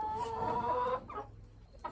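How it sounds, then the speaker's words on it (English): A hen in a clean, dry coop clucks and murmurs close by, a drawn-out call followed by softer short clucks, with no voices. "Happy chickens."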